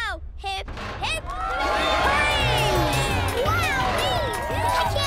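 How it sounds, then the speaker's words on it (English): Cartoon crowd cheering for Koko in Chuggington, a loud sustained roar of excited voices and shouts swelling after a brief opening sound and continuing to the end. "A big cheer for Koko!"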